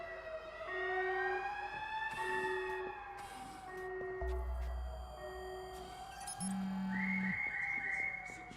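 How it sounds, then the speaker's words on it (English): Alarm siren in Watch Dogs 2 wails with long steady tones that rise and shift in pitch over several seconds, mixed with game beeps and a low rumble, moderately loud throughout. "This feels like when someone pulled the fire alarm"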